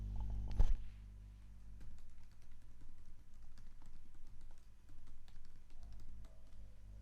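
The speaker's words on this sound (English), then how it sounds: "So let me type that right now." Typing on a computer keyboard while writing a monitoring and evaluation report, with quick, soft, irregular key clicks in bursts and a brief louder knock at the start, faint and close, with no talk.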